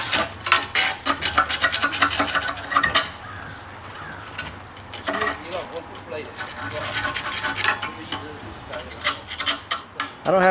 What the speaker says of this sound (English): let me put this in the vise and scrape it off